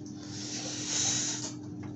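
Water rushes while something is rinsed out, a brief close hissing spray that swells in the middle and fades away over about two seconds, with no talking.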